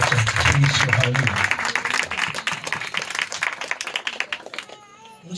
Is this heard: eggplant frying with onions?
no